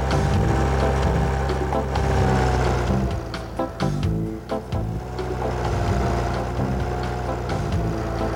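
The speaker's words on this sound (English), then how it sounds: "as Mrs. Stubble was polishing the tractor, she accidentally started the engine." A farm tractor engine idles steadily, with a loud low drone and a brief uneven dip midway before it settles back to a continuous rumble.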